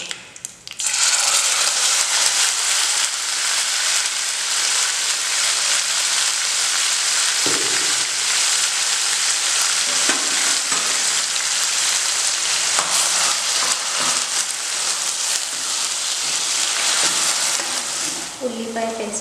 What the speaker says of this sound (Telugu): ఉల్లిపాయ పేస్ట్ అంతా పచ్చివాసన పోయేటప్పుడు ఆయిల్లో బాగా వేపుకోవాలి